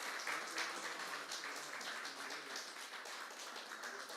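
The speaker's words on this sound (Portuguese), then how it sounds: "Aplauda ao Senhor" A church congregation applauding during a Portuguese-language worship service, a dense, even patter of many hands clapping together for several seconds, moderately distant and with no talking over it.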